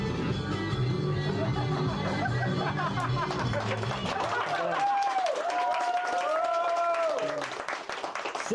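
A stand-up comedy audience claps and cheers for a comedian as he comes on stage. Steady, dense applause mixed with crowd noise fills the room, then a voice talks over the last few seconds.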